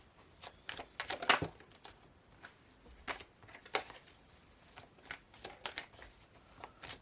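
A deck of oracle cards shuffled by hand, with quiet riffling and brisk flicking bursts as cards are drawn, near and alone with no talk.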